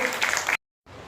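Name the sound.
applause honouring Hemrajbhai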